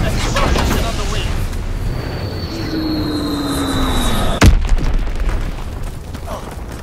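Mortar rounds strike in the Call of Duty: WWII video game, with one sharp, loud boom cutting through a steady roar of aircraft and battle noise while a radio voice talks.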